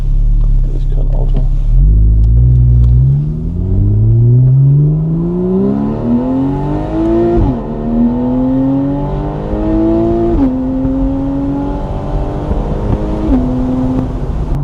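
A 2025 Ducati Panigale V2 S motorcycle engine revs up and shifts through gears repeatedly, rising in pitch between each change, loud and close.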